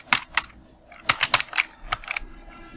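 Tapping on a computer keyboard while entering Tamil text, a run of separate clicky keystrokes in irregular bursts, close and fairly quiet, with no voice.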